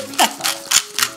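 A hand-turned pepper mill grinds pepper in a home kitchen, four short crunchy bursts of grinding evenly spaced, close and crisp, with a voice briefly audible at the start.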